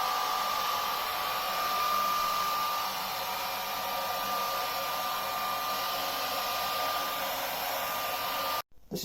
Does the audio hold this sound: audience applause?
no